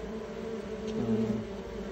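Honey bees buzzing at a Flow Hive, a low steady drone of many insects with a slight swell near the middle, close and continuous without talk.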